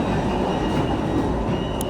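Interior rumble of an MRT train on the Kajang line in Kuala Lumpur, a steady loud low roar of wheels and motors riding along with no break and no voices.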